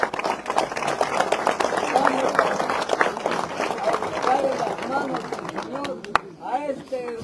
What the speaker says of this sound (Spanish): ¡Aplauso al Señor!